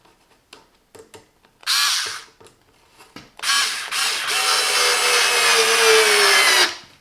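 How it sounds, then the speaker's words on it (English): Parkside PAS 4V cordless screwdriver driving small screws: a few brief clicks and ratchet ticks, then two whirring motor bursts, the second long and steady as the screw runs in, close and loud. "So I have some screws here, starting with a smaller one."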